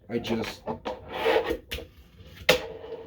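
A fingerboard's hard, gritty scraping slides and grinds across smooth painted concrete in short bursts, with a sharp clack near the end.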